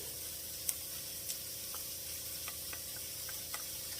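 Chopped celery sizzles in a pan while a bolognese sauce is started, a steady close hiss with faint scattered pops and ticks, no talking.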